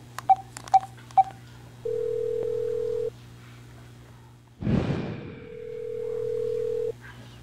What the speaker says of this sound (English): Okay, let's make that phone call.